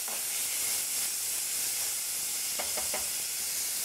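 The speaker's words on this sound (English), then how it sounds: "Now I'm adding onions. And I'm going to just brown my onions." Onions brown in a pan for a chickpea curry, sending up a steady, even hiss and sizzle close by, with a few quick stirring scrapes near the end.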